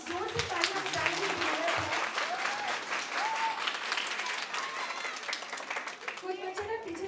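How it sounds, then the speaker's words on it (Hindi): Sustained audience applause fills the room, dense clapping from a large crowd with a voice speaking over it. "I think we should give a big round of applause."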